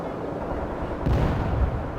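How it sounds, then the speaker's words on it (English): A missile launches in the video game World in Conflict: a loud, broad roaring blast rises suddenly over a steady rumbling battle bed. "Launching missile now!"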